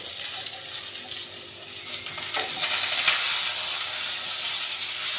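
Garlic frying in a pan for a Kerala-style curry, a steady broadband sizzle that grows louder partway through, with faint stirring and scraping underneath and no talking.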